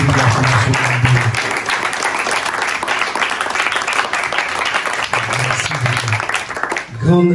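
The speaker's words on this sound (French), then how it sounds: "Est-ce que vous pouvez applaudir la Fondation Eldoro?" Audience at a church-style gathering for orphan children applauds a foundation, with dense sustained clapping across the whole stretch and a voice speaking over the start and near the end.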